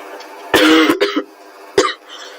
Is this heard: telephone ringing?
no